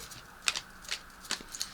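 Quiet, soft riffling and flicking of tarot cards being shuffled, with a few brief crisp bursts against a faint hiss.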